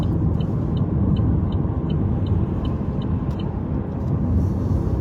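A car drives steadily with a dense road rumble close by, loud and continuous with no voices.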